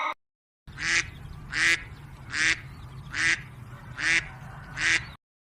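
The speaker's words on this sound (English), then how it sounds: "D for duck." A duck quacks six times in a steady, evenly spaced rhythm, each call loud and close over a low continuous background hum.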